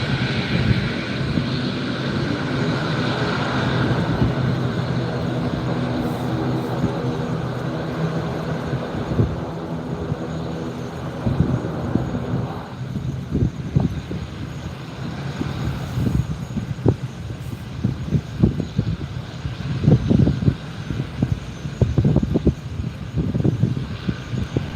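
A plane rolls fast down a taxiway in the rain, its engine roar broad and steady at first, then thinning out to rougher wind-buffeted rumble with scattered thumps and gusts against the phone microphone.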